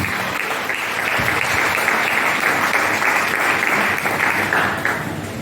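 Church congregation applauding steadily and loudly for several seconds, a dense continuous clapping that fades slightly at the end.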